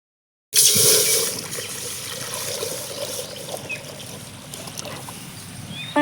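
Water sloshes and trickles steadily after a splashy start, the wet swishing of roasted rice being rinsed by hand close by for sweet pongal.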